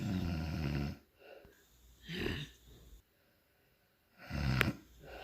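A woman snores in slow, rough cycles, with three heavy snorts separated by quieter breathing and a near-silent gap, close by and fairly loud.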